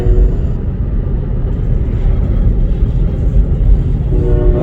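A freight train passes close and loud, its heavy locomotive rumble and rolling wagon noise rising and falling. A sustained horn tone sounds over it, first at the start and again near the end.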